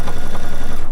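A sewing machine stitches binding onto a quilt, running fast and steady with a rapid, even mechanical chatter close up, stopping abruptly at the end.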